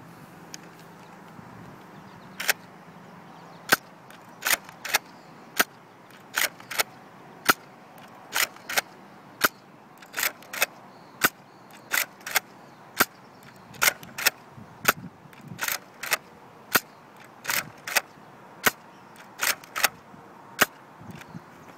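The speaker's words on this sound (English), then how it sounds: "Okay, there's 10 shots for the Retaliator." A Nerf N-Strike Elite Retaliator blaster is worked and fired repeatedly. Sharp, dry plastic clacks and pops come in a fairly regular series of many close, crisp hits over quiet background.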